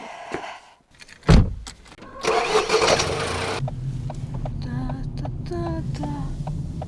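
A car engine cranks and catches after a door thud, then settles into a steady rumbling idle, close by, with a few short whines and faint sounds over it.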